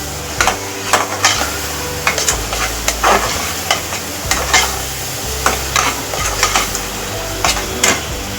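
Asafoetida dropped into hot oil for a suran (elephant foot yam) bhaji, with a loud crackling sizzle and repeated sharp clanks of a spoon stirring against the pan, no talking.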